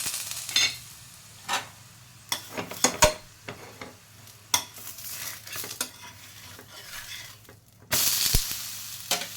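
Thalipeeth roasting on a pan, a faint steady sizzle broken by scattered scraping and tapping clatters of a spatula, with a louder burst near the end.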